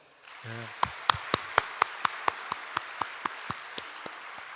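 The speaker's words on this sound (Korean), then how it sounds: "정말 우리 믿음의 선배들을 위해서 한번 박수를 칠까요?" Church congregation applauding its elder members at a 52nd anniversary service: a short tone sounds, then a series of about fifteen sharp, evenly spaced claps that slowly fade, sounding more like one person's rhythmic clapping than a full crowd.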